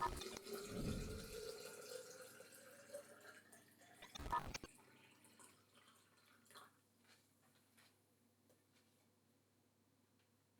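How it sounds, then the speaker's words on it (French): Lukewarm water is poured into a clean glass bottle, a close gurgling splash lasting a few seconds, followed by a brief clatter and quieter drips. "Je verse l'eau dans la bouteille."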